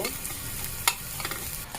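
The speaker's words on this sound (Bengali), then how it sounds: "এখন এটা ভালো করে একটু লাল করে ভেজে নিব" Onions frying in oil in a pan, a close steady sizzle with light stirring and one brief sharp scrape, no talking.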